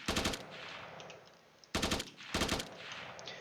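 An automatic weapon in a video game weapon system fires in three rapid bursts, each a tight string of sharp shots with short silent gaps and quiet tails between them.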